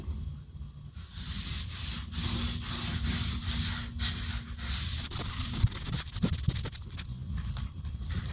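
Boiled linseed oil finish rubbed by hand into quilted maple guitar wood, a soft steady scrubbing and swishing at close range, fairly quiet, with a few small knocks near the end and no talk.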